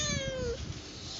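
A cat gives a single drawn-out meow that slides downward in pitch, fairly close, over a steady low background hum.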